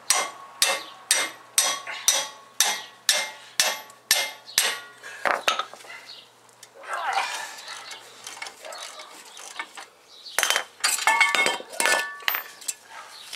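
A ratchet wrench loosens the brake caliper bracket bolts during a front brake job with Power Stop parts: a close, steady run of sharp clicks, then looser metallic clatter and handling noise.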